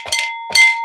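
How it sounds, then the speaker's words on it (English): A small bell on a Route 66 show set struck twice, each ring a clear ringing tone that decays over about a quarter second, close and loud with no talk. "Mike, this bell's here for you."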